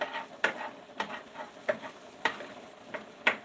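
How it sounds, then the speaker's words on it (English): Onion sautéing in butter in a pan, a soft steady sizzle punctuated by regular utensil taps and scrapes roughly every half second, close and quiet with no talking. "A little bit of onion sauteed with butter in them."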